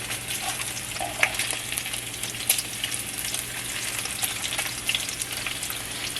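Halved bacon pieces fry in a pan at home for breakfast, a continuous crackling sizzle with occasional sharper pops, moderately close and without talk.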